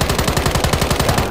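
A fully automatic assault rifle in Modern Warfare III fires one fast, continuous burst of evenly spaced shots, loud and close, lasting just over a second with no talk over it.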